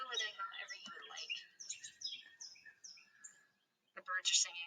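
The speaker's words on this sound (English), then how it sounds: "The birds are singing, they like my alligator." Birds chirping and singing outdoors in quick, bright trills and tweets, fairly faint, with a brief pause before a further burst of calls.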